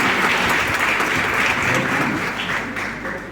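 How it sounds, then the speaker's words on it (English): Sustained audience applause at a college festival welcome, dense and fairly loud from start to finish and easing slightly toward the end, with no voices over it. "A big applause please."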